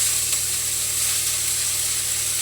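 Tomato halves drop into hot oil left in a pan after frying colocasia-leaf vadis, giving a steady, dense, close sizzle that holds evenly throughout with no voices.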